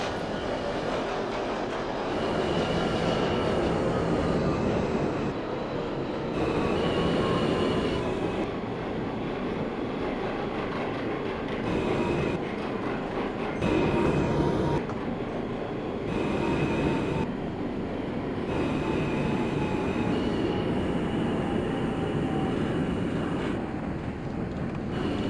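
A Queens-bound E subway train in the OpenBVE train simulator game runs steadily, with a continuous loud rolling rumble, rising and falling motor whine and faint wheel squeal, interrupted by brief gaps in the sound.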